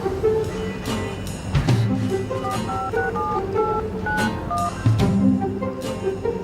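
Telephone keypad dialing tones sound as a quick series of short electronic beeps in varied pitches, clear and close, with some thumps and background noise between them.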